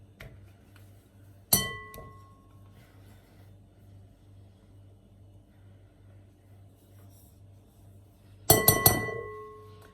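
A bowl being set down for cookie dough gives a bright ringing clink, and a few seconds later a quick rattling series of clinks follows as butter goes in, against a faint steady hum.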